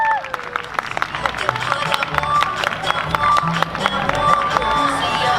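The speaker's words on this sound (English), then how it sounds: "how about a nice round of applause for our lovely ladies?" Audience applause and some cheering for performers at a community event stage, scattered claps mixed with crowd chatter, voices and shuffling, fairly busy and uneven.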